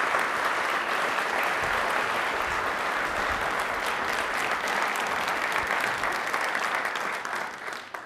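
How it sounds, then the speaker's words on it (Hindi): Loud, sustained applause from a studio audience honors a guest on a Rajasthan television question-and-answer program, a thick unbroken roar of clapping that tapers slightly at the end. "तालियां प्लीज एक बार सर के लिए जोरदार होनी चाहिए"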